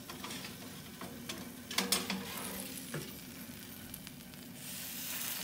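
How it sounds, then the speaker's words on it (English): Shish kebab frying in a pan on the stove gives a soft, steady sizzle with scattered crackles and pops, fairly quiet and close, with no talking. "I can hear it sizzle."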